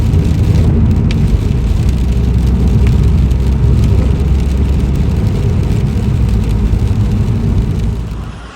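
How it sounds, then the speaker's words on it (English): Heavy, pouring rain drums on a moving car in flooding around Beccles quay, with a dense, loud hiss over low road rumble and tyres on wet road, steady throughout and easing off at the very end. "The rain hasn't stopped, it's pouring all the way through, it's still pouring now."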